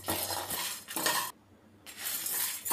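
Mustard seeds and dried red chillies are dry roasted in a pan over a medium flame. A spoon stirs and scrapes with clinking metal sounds, and there is a brief pause midway before the stirring resumes.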